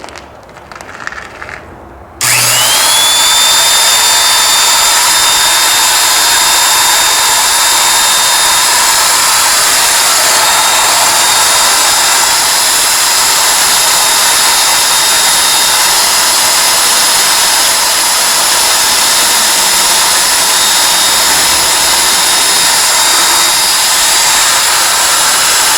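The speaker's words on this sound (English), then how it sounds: "I'll fire this drill up here" A loud power drill whirs steadily at high speed for a long stretch after a brief quiet start, its pitch holding nearly constant, drilling on a homemade trailer under restoration.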